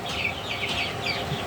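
About a hundred chickens are crowded into a small poultry shed bedded with sand litter, and a close, busy chorus of clucks and high chirps overlaps continuously for a brief moment.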